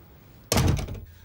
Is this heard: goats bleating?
no